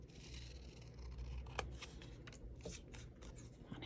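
Scissors trim paper for a scrapbooking craft project, giving a few faint, crisp snips and rustles against quiet room noise.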